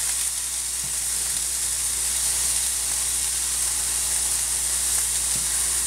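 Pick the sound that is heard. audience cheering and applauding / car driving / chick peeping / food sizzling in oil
food sizzling in oil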